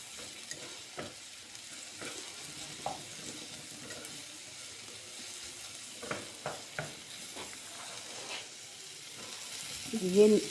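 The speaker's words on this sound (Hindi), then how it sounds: "दो तीन मिनट के लिए टमाटर और प्याज को फ्राई होने देना है।" Chopped tomato and onion frying in a pan for an egg omelette, a soft continuous sizzle broken by scattered stirring clicks and scrapes.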